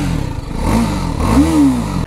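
TVS Apache RR310 motorcycle exhaust revving close by, a steady engine drone that climbs in two pitch sweeps, with a clattery edge and no talking.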